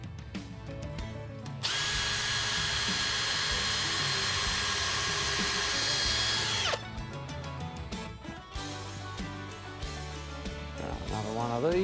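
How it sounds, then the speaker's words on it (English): A power drill bores a hole while making a homemade chainsaw holster for a tractor, a loud, steady whine lasting about five seconds before stopping, with clattering workshop handling noises before and after. "I'll do another drill."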